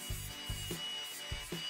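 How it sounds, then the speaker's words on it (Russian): A plastic pipe is cut by hand for a toilet installation, giving short rasping saw strokes in a quick rhythm of about four passes, close and fairly quiet, with no voices. "Обрезаю, снимаю заусенцы и болгаркой заостряю край трубы."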